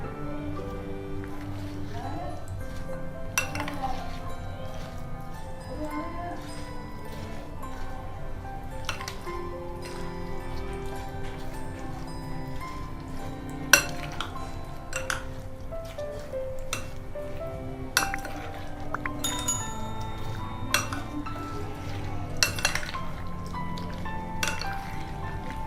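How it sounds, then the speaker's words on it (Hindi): A spoon stirs creamy fruit chaat with cut fruit and cream in a bowl, giving repeated soft clinks against the bowl and wet squishing sounds at a steady close rhythm over a quiet background hum. "अब हम इसको अच्छे से मिक्स कर लेंगे"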